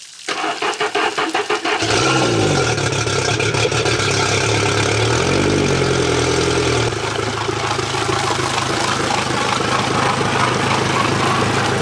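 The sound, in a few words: outboard boat engine running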